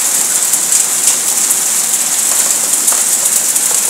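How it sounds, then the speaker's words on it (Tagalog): Hail and rain come down together in Riyadh in a steady, dense patter of ice pellets and drops, a continuous close hiss with scattered sharper taps and no voices. "Umulan po ng ice dito sa Riyadh."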